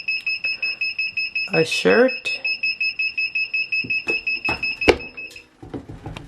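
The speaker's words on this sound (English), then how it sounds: "so that was like a 10-second timer." A Vevor 15 x 15 flat heat press timer beeps in a rapid, steady series of loud, shrill electronic tones, with a person speaking briefly over the beeping partway through.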